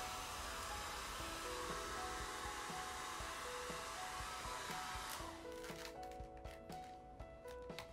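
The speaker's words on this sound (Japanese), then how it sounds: "まずはヘアドライヤーして" A handheld hair dryer runs close and steady as someone dries their hair at home, a continuous loud whoosh that eases off near the end, with light handling rustles toward the close.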